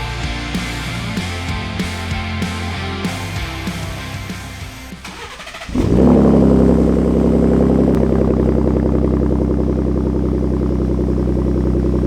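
A Ford Raptor pickup truck engine cranks on a cold start with rhythmic starter whirring, then catches and settles into a loud, deep, throaty idle through an aftermarket exhaust.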